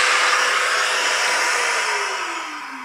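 A shop vacuum runs with a loud, steady roar in a woodworking shop, paired with a mortising machine, then winds down as its whine drops in pitch near the end, with no voices.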